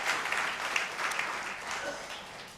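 An audience claps in a Tamil public speaking event, a dense steady patter of hands that fades slightly toward the end, with faint voices mixed in.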